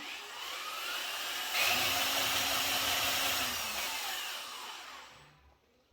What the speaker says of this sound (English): tighten your chuck up, and then you say, let's spin the big painting